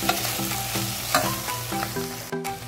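Menudo frying in a pan while being stirred, a steady sizzle with scraping stirring strokes throughout, close and moderately loud with no talking.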